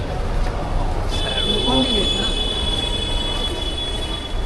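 A train rumbles through a crowded, busy railway station in Mumbai, with a steady roar, a faint high squeal and crowd noise and voices around it.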